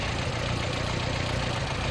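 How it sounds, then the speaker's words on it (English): Ford Endura E overhead valve engine from a classic 1990s Ford idling with a slightly tappety note, a steady, continuous mid-to-low rumble heard up close with no talk. "this is the old Endura E overhead valve engine that goes back basically to the Ford Anglia"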